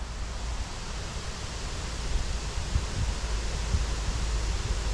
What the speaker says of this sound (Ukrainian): Вітер поки щось шумить.